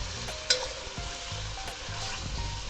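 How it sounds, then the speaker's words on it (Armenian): Peppers, cauliflower and carrot sizzle in a hot pan while being stirred, a soft continuous frying hiss broken by a scrape near the start and light rhythmic stirring sounds. "խառնենք եւ շարունակենք տապակելը"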